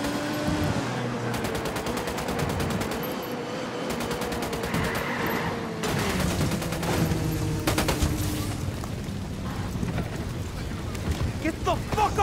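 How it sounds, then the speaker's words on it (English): Rapid bursts of automatic gunfire and single shots crackle through a Ghost Recon Wildlands firefight, steady and loud across the scene, mixed with ambient wind and in-game voices shouting. "Opening fire."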